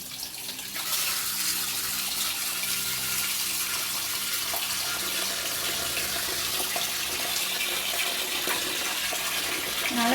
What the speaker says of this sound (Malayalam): വെള്ളം അടിച്ചിട്ടുണ്ട് അതിനകത്ത്.